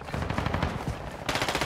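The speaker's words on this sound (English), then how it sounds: "Friendly chopper gunner servicing targets." Chopper gunner in Call of Duty: Modern Warfare II fires a continuous, rapid stream of heavy machine-gun rounds, steady and unbroken, with a brief jump in brightness near the end.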